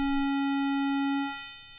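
A synthesizer square wave runs through a high-pass filter, giving a steady, bright buzzing tone. Toward the end the filter thins out the low body of the note.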